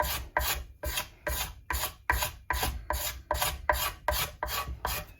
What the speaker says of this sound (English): It's a great little tool, the cabinet scraper